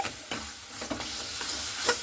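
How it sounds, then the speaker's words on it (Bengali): Spice powder stirred into a sweet-sour raw mango chutney cooking in hot oil: a few close spoon scrapes against the pan over a soft sizzle, with no one speaking. "এরপরে খুব ভালো মতো করে আবারও একটু নাড়াচাড়া করে নিচ্ছি।"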